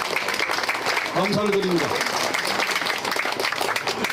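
An audience claps at a Korean memorial ceremony for General Paik Sun-yup marking the Korean War anniversary, with steady applause running through the clip while someone speaks over it.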